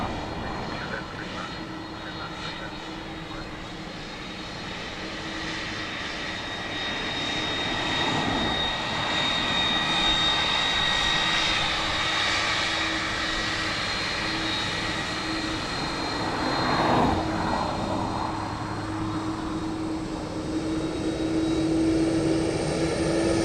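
Airbus A330 airliner engines roaring at Dublin Airport, a steady loud propeller-like drone that swells and builds over twenty seconds, with wind buffeting in the background.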